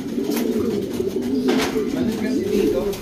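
Racing pigeons being gathered for a one-loft race coo close by, a steady overlapping murmur of low throaty calls running throughout with faint background voices.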